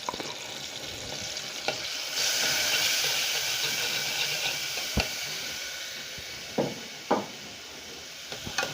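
Pounded garlic sizzling in a spoonful of ghee for an old-style fatta: a steady, bright hiss that swells after the first two seconds, with a few sharp clicks and pops from the pan. No voices.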